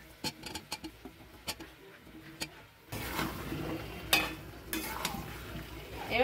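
Small new potatoes go into a hot spice masala for Bengali aloo dum, with a few light ticks and stirs first, then a steady close sizzle and frying hiss with occasional scraping clatter.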